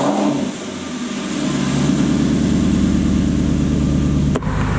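A Ferrari 430 Scuderia fitted with a Capristo exhaust revs loud and close, a deep sustained engine roar that swells and holds steadily before cutting off abruptly at the end.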